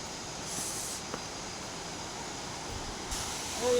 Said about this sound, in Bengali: ঝর্ণার জলের আওয়াজ